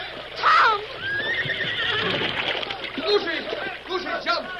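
Horses whinny loudly and repeatedly as a river current sweeps them from a wagon at a crossing, with splashing water and urgent voices talking over the commotion.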